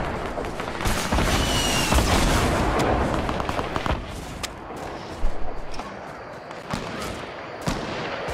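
Gunfire crackles in a Fortnite match: rapid, sharp shots in bursts at mid distance, dense at first and then thinning to scattered single cracks.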